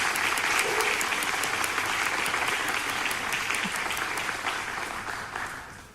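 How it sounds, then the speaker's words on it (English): A graduation crowd at a Canine Companions ceremony claps for award winners, a thick, continuous wash of applause from many hands that holds steady and then slowly tapers near the end. "let's give everyone a round of applause again"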